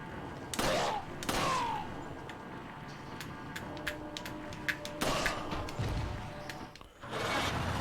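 Gunshots ring out in the video game Resident Evil 4, a few loud blasts spaced apart among quieter clicks and game noises.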